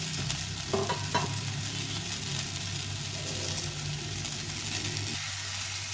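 Drumstick (sajna) stalks frying in a pan, giving a steady, continuous sizzle with a few faint stirring scrapes near the start.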